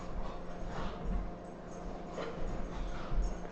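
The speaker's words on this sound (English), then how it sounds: "Now my dogs are getting really loud." Several pet dogs in a home whimper and give soft, scattered yips at close range, fairly quiet and intermittent over a low background hum.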